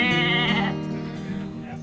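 A farm goat gives a loud, close, wavering bleat that holds for over a second and then tapers off, with no other sounds around it.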